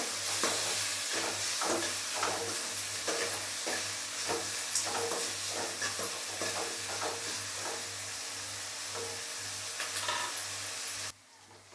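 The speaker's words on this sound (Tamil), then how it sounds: "வெங்காயம் நல்லா வதங்கிச்சு பாருங்கள்" Onions sautéing with salt in a hot pan, giving a continuous loud sizzle with steady stirring scrapes and a low hum underneath, no talking, cutting off abruptly near the end.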